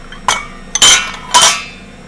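A metal whisk clatters against a bowl while mixing flour, cocoa powder, salt and baking soda, making three loud, bright clanking bursts in quick succession with no talking.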